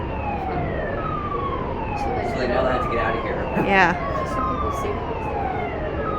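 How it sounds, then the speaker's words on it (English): An emergency vehicle siren wails, its repeating rising and falling sweeps carrying over the water at the Port of Los Angeles, heard at a moderate distance from a departing cruise ship as people chat nearby. "Why do they have their siren on?"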